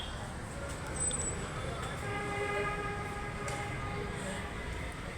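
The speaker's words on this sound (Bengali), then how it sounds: "এই যে মেট্রো রেল চলে আসছে উপরে" An elevated metro train passes overhead in a residential cantonment area, a faint steady rumble with thin tonal whines and a brief horn-like tone, while a person talks.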